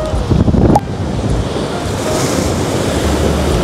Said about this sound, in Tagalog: Sobrang lakas ng alon, guys.